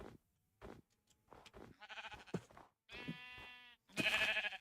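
Minecraft sheep bleat several times in short wavering calls, separated by soft game sounds and footsteps, fairly clear and close.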